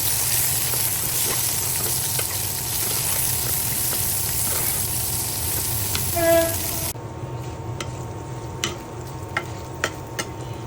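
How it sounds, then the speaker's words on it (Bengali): Sliced pointed gourd fries in oil with turmeric in a pan, a loud steady sizzle with stirring scrapes that drops to a quieter crackle with sharp spatula clicks partway through. "এই যে কেটে রাখা পটলগুলো ভেজে নেব"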